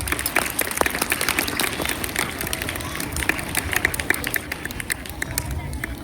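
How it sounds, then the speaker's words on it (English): A school audience applauds at an academic-year inauguration, a dense, steady patter of many hands clapping at once, with crowd murmur mixed in throughout. "Let us give them a big round of applause."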